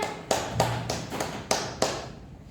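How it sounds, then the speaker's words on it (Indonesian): A handful of primary-school pupils clap for a classmate in a classroom, with about six separate, sharp, evenly spaced claps in a short, loose rhythm, close and clear with no talking. "tepuk tangan dulu untuk temannya"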